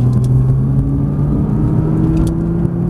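A Nissan GT-R pulls onto a race circuit at a track day, its engine a loud, steady rumble with rising tonal whine as it gains speed, heard from inside the car with no talk.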